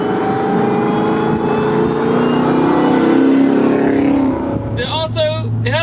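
Supercharged Ford F150 truck engine roaring loud and steady with a rising whine, easing off near the end as a voice speaks briefly.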